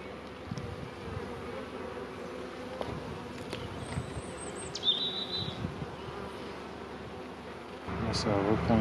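Bees drone in an open hive during a spring inspection, a dense steady buzz with individual insects whining past close by and louder handling noise near the end.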